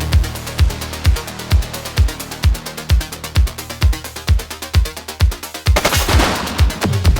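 Repeated gunfire in a police video game, a steady rhythmic run of loud close shots roughly every third of a second, ending in a denser burst.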